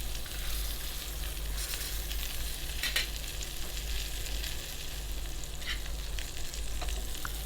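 Pigeon breast and legs sear together in a pan with olive oil, giving a loud, steady, close sizzle and crackle that runs unbroken throughout, with no voices.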